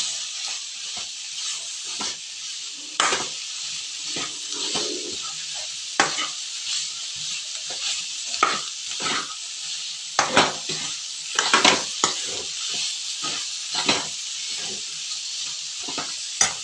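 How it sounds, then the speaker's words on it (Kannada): Spices and grated coconut frying in a pan, a loud continuous sizzle with repeated scraping and clattering strokes of a spoon stirring throughout, no voices. "ಕಾಯಿ ಎಲ್ಲ ಹಾಕ್ಕೊಂಡು ಚೆನ್ನಾಗಿ ಫ್ರೈ ಮಾಡ್ಕೊಬೇಕು ಕಲರ್ ಬರೋವರೆಗೂ."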